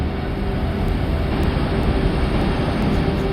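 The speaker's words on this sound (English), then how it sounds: "The sound of the winds from a tiny moon nearly 1 billion miles away" Winds on Saturn's moon Titan, captured by the Huygens space probe during its descent, make a steady, dense roaring rush with no breaks or voices.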